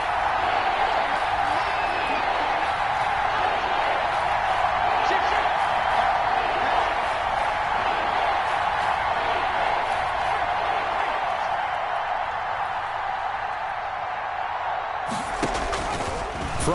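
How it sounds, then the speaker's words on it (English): A crowd in an American football video game on PS4 roars steadily through a third-and-ten play, a loud, continuous wash of cheering that holds without letup before dropping off sharply near the end. "Crowd getting in it a bit already."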